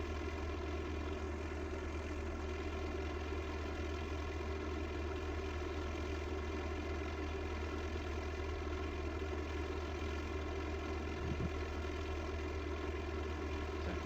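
Spitfire fighter aircraft engine in a combat flight video game, a steady, continuous propeller drone held at an even level throughout with no break or talk.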